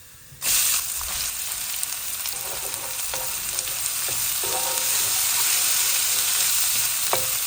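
Onions and cumin seeds hit hot oil with a sudden loud sizzle that holds steady, with small pops and stirring clinks through it for the whole stretch, close up and with no voices.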